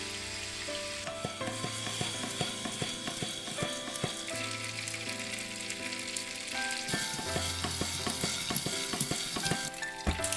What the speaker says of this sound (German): Bei mittlerer Hitze köcheln, bis das Wasser verdampft ist.